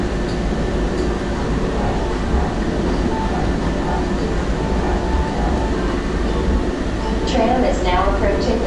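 The Bellagio tram rolls along its guideway with a loud, steady low rumble and hum from inside the car, while an automated announcement voice speaks near the end.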